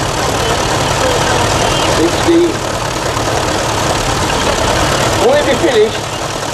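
A restored vintage tractor engine idles at a steam rally, its loud, steady low rumble running beneath people talking nearby, with a brief pause in the chatter before the speech resumes.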